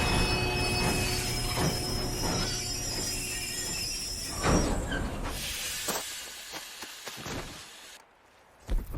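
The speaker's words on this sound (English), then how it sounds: "We have to stop this train." Train in Red Dead Redemption 2 running on its rails, with loud squealing wheels and hissing metal over a rumbling roll that fades and thins toward the end, with a couple of sharp knocks.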